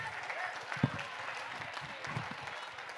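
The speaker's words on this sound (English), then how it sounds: "Give yourselves a round of applause." A fundraising gala audience claps in a faint, distant round of applause, scattered hands beneath a murmur of voices and room noise, with one sharper thump partway through.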